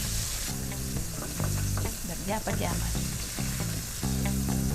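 Milkfish (bangus) frying in hot oil for dinakdakan, a steady loud sizzle with bursts of crackling and popping throughout, with a brief spoken word over it.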